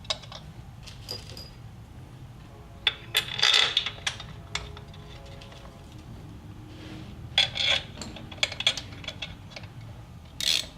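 Metal sealant bolts being threaded by hand into the primary cover of a Harley-Davidson touring motorcycle, heard as light scattered clinks, scrapes and brief metallic ticks with quiet pauses between them and no talking.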